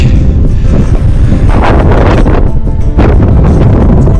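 Strong wind roars and buffets the microphone continuously on the summit of Wright Peak in the Adirondacks, a loud rumbling gusty rush with no voices.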